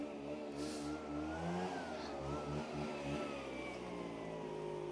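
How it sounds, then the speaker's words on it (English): A leaf blower runs outdoors at a lawn, a steady loud droning motor roar with shifting pitch as it moves nearer, holding continuously throughout. "Here he comes with the blower, look."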